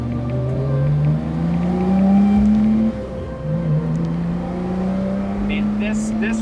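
A Ferrari 330 GTC, a 1960s grand touring car, cruising fast with a steady, loud engine drone that rises in pitch as it accelerates, with a brief shift partway through.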